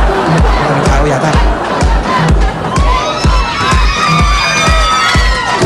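A crowd of people shouts and cheers loudly and continuously at a resort, with a steady pounding rhythmic beat underneath and excited voices rising over it.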